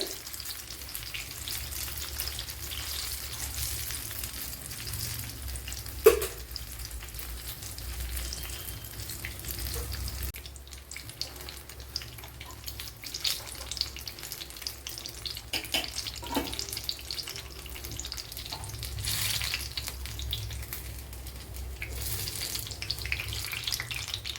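Batter-dipped evening snacks fry in oil in a home kitchen, giving a steady, moderate sizzle and bubble throughout with occasional clinks and stirring sounds, no voices.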